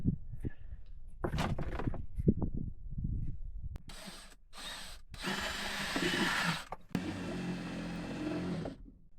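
A power drill bites into an aluminum golf cart frame in a few quiet whirring bursts, then runs in longer sustained grinding spells before stopping.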